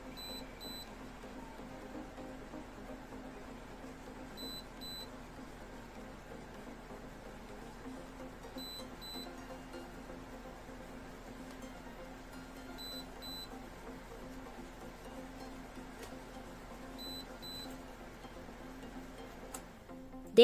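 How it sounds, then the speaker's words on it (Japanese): Faint electronic beeps repeat in small groups at regular intervals over a quiet, steady hum: the low-voltage alarm of a homemade portable power station running on a Makita 10.8V battery through a sine-wave inverter. "この辺で警報が鳴ります。"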